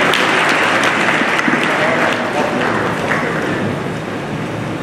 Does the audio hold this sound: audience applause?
yes